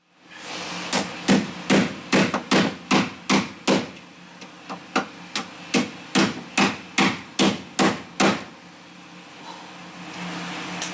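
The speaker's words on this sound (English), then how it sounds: "you smack that with a hammer and it turns that screw as it impacts in" Loud, close hammer blows strike an impact driver to loosen screws during door and bumper removal on an MGB Roadster, roughly twenty sharp metallic hits in a steady rhythm before fading into quiet background.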